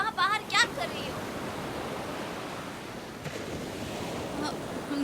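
Water washes and laps steadily, a broad hissing rush that stays constant throughout, with a few brief faint voices near the start.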